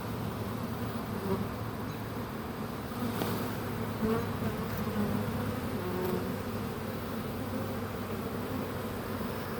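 A swarm of honey bees being scooped by hand into a box gives a dense, continuous buzzing hum, close and steady, with no voices.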